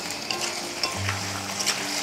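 Brinjal and fenugreek leaves cook in a pan with a soft, steady sizzle and faint stirring scrapes, quiet and close, with no talking.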